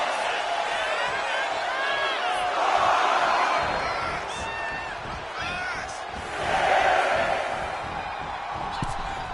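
A crowd in the WWE 2K25 video game roars and cheers in a steady wash that swells twice, loud, with a commentator talking over it.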